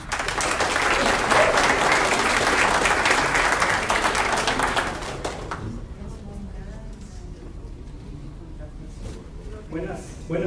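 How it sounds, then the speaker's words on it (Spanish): Applause from a conference audience at a book presentation, loud and sustained for about five seconds, then dropping away to quiet room noise with faint murmurs and a few stray sounds. "Nuestro siguiente ponente, Jorge Tian, es un fuerte aplauso para él."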